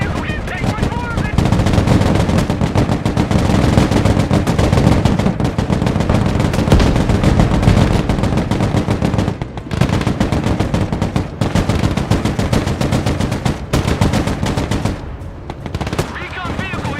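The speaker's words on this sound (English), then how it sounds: "Recon vehicle here. We're taking fire." Sustained machine gun fire and gunshots in the military video game Broken Arrow, loud and nearly continuous bursts across the whole stretch with brief dips, while radio-style voices talk over the combat.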